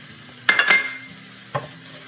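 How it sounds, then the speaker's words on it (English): Flour being stirred into garlic cooking in a pan: two quick scraping, clinking strokes of a utensil against the pan, then a third softer one, over a faint sizzle. "Stir that in real well."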